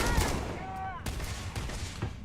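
Gunfire and grenade blasts in the video game Starfield: dense, continuous combat noise with repeated sharp shot impacts and a rumbling explosion tail, mixed with sweeping electronic effects.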